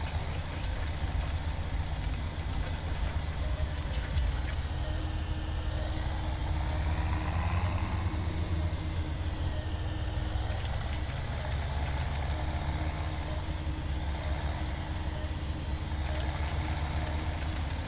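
A straining tractor engine in Farming Simulator 17 drones steadily under load, a continuous low rumble with a rising and falling whine in the middle, no voices.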